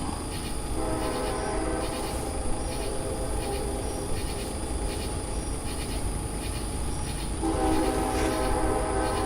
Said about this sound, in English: There's a lot of echo in the train whistle tonight.